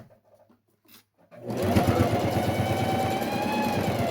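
A sewing machine stitching the start of a seam on a simple zippered pouch, with backstitching; quiet handling for about a second and a half, then the motor kicks in and runs steadily and loudly at close range.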